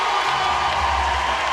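Spectators at a Major League Pickleball playoff match in Dallas cheer after a winning rally, a broad, loud crowd roar that holds steady throughout.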